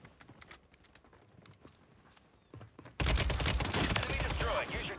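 Rapid WSP 9 submachine gun fire in Call of Duty Rebirth Island, starting with scattered faint clicks and footsteps, then erupting into a loud, sustained close burst of automatic shots mixed with game effects.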